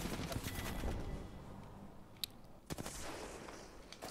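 Spitfire light machine gun fire in the battle royale game Apex Legends, heard as faint, distant bursts of rapid shots, with sharper cracks near the middle and end over a low steady background.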